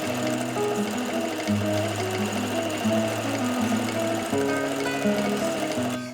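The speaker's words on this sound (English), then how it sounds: "take your 2 hat pieces and you're going to sew the side seams first." Sewing machine stitching the side seams of two fleece hat pieces, a steady continuous whirring hum that runs close and loud almost without break, with no talking.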